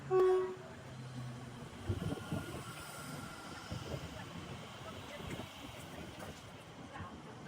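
Train passing in footage played back from a railway video, a low rumbling rail noise at moderate level under someone speaking, with a brief horn-like tone at the start.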